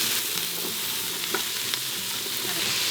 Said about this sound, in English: So now we're gonna add, it's about 2 cups of celery and 2 cups of carrots. I'll let this cook for just a little bit longer.